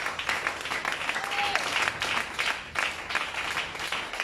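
A church congregation applauds in steady, dense clapping from many hands, close and fairly loud throughout, with voices mixed in beneath the applause.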